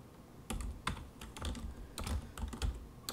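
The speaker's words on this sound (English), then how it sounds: "Whoops, helps if you hit the right keys." Typing on a computer keyboard in quick irregular bursts of key clacks, close and fairly quiet, with short pauses between clusters.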